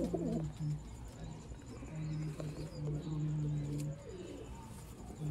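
Black-faced Sialkoti pigeons coo softly nearby in short, low, repeated calls with small pauses between them, set against a faint background hum.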